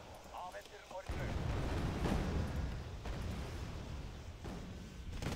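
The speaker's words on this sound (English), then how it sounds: "I'm shelling them with a mortar. Well, four mortars to be exact." Mortar shelling in the video game Wargame Red Dragon, with four mortars firing: a sustained, rumbling barrage of low booms that starts suddenly and keeps rolling at moderate loudness, with occasional sharper impacts.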